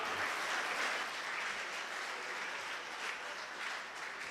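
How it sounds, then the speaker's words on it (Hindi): An audience applauds throughout at a Urdu poetry mushaira in Bahrain, with a dense, steady wash of clapping that stays even in level across the whole stretch, with no voices over it. "आप खुल के तालियां बजाए।"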